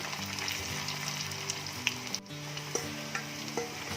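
Shallots and garlic sizzle steadily in a pan, a dense continuous frying hiss broken by a few soft stirring scrapes. No one speaks.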